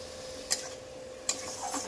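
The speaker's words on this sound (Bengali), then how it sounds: "সেই পেঁয়াজ বাটাটা আগে দিয়ে দিলাম। দিয়ে একটু ভালো করে কষিয়ে নেব পেঁয়াজ বাটাটা" Onion paste and spices frying in a pan for a Bengali pomfret fish curry, a low steady sizzle broken by two sharp scrapes of stirring, close and without talk.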